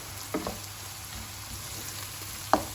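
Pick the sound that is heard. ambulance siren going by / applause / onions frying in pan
onions frying in pan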